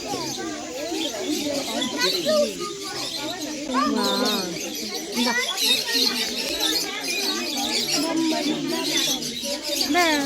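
Birds chirp and call at a pet sanctuary animal farm near Bangalore, repeated tweets scattered through a busy scene while children and adults talk loudly throughout.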